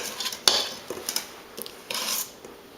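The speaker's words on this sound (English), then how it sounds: "for the end parts that don't want to come out, you can get a big spoon" A big spoon scrapes cake batter from the sides of a mixing bowl, giving soft, uneven rubbing and clinking strokes with one sharper knock near the start, close by and fairly quiet.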